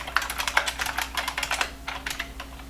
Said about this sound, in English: this keyboard, I love the way it sounds